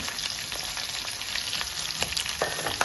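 Onions frying in a pan for a carrot and lentil curry, a dense continuous sizzle close up with light stirring scrapes scattered through it.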